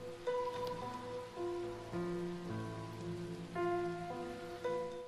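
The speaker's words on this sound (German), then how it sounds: "Es regnet." Steady rain patters in Sword Art Online: Hollow Realization, a poisonous in-game downpour washing softly beneath prominent melodic game music with distinct sustained notes.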